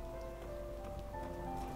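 Steady rain pouring in the video game Night in the Woods, a continuous soft hiss of drops with faint tonal game ambience underneath, no talking.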